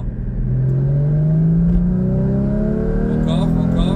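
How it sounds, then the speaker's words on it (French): A Porsche Cayman GT4 sports car engine revs hard and loud in second gear, its pitch climbing steadily as it pulls, not yet reaching the redline. "je vais tirer la 2 et vous allez voir le temps qu'elle prend"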